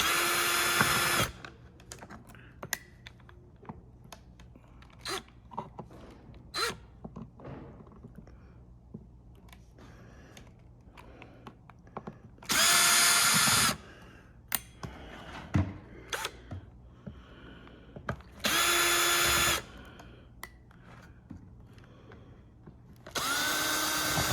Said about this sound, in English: So it's different screwdriver, take this casing apart.